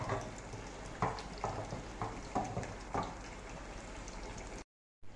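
Whole spices sizzle and crackle steadily in hot desi ghee for a tadka, with several light scraping taps of stirring, before the sound briefly cuts out.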